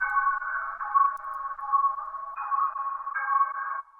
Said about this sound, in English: I added this effect by Goodhertz, and I put it on this preset called Tiny Radio